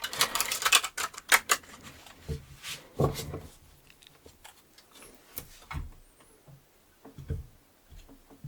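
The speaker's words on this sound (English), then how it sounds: "I'm gonna be done shuffling these cards soon." Tarot cards being shuffled up close: bursts of quick papery clicks and riffles, followed by softer scattered taps and shuffling.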